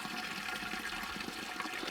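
Water gushes steadily from a tap, a constant close splashing rush with no pauses and no talking.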